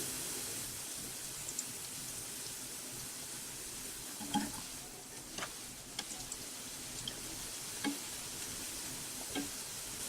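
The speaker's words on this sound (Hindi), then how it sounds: "और इसे हमें लो फ्लेम पे ही कुक करना है।" Bhavnagri gathiya, a Gujarati fried gram-flour snack, frying in oil over a low flame: a steady faint sizzle with occasional soft pops and light stirring ticks, no talking.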